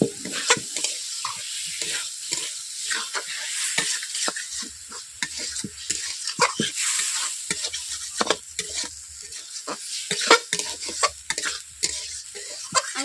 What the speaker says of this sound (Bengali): এভাবে আমি ফুলকপিগুলোকে কষিয়ে নিচ্ছি বন্ধুরা